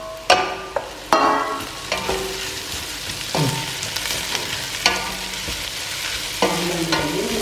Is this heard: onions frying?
yes